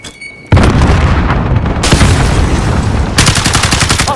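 Grenade blast in Call of Duty: Modern Warfare, a loud booming explosion hitting abruptly after a quiet moment, followed by sustained rumbling gunfire and a second burst of rapid shots, very close and intense.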